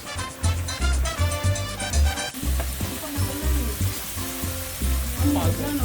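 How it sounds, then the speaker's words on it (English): Beans sizzle and fry steadily in epis seasoning base in a pan, with stirring and scraping sounds mixed in and music playing underneath. "now that you have your beans, they're frying up a little bit in this epis"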